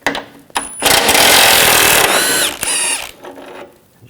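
A 16mm wrench turns a nut on a 2000-2006 BMW X5 during front CV axle replacement, with sharp metallic ratcheting and grinding bursts, loud and close, and short squeaky tones between quieter gaps.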